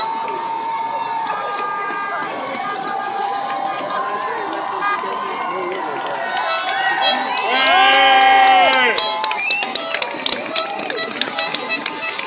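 A crowd cheers and shouts as a boat arrives at La Rochelle, a dense, steady roar of many voices with whoops and children's shouts, swelling in the middle. A brass fanfare plays through the noise.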